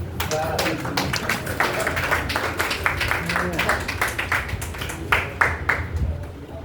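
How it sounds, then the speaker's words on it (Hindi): Audience applause for a ghazal poet at a mushaira, many hands clapping in a sustained, uneven patter with occasional louder claps and voices heard underneath. "एक बार एडवांस में तालियां चाहता हूँ।"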